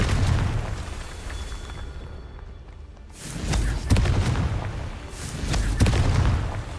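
Repeated booming blasts of the Confringo fire spell in a Harry Potter video game, loud explosive bursts that cut out briefly and then return in a new burst of several thuds and rumbles.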